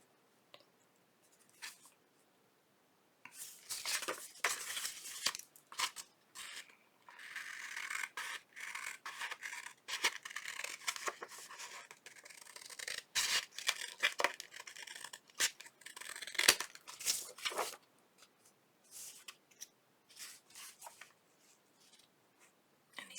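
Scissors snip and scrape through a paper cutout for an Alice in Wonderland journal, in close, quiet bursts of crisp cutting sounds separated by short pauses.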